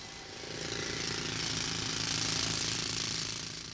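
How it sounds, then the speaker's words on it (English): Atlas Copco RH light rotary percussive rock drill working in a test mine, a steady rapid mechanical hammering with a droning rattle that swells slightly and holds throughout, alone with no voices. "A new advanced rock drill is launched"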